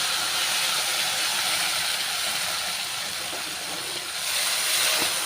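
Hot tempering hisses loudly and steadily as kuzhambu for Thai Pongal, a curry of many vegetables, is poured in. The sizzle is close and continuous, with no voices.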